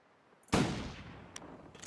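A single rifle shot fired at an animal in The Long Dark video game, one loud, sharp report up close with a long rolling echo that fades, followed by a few faint clicks.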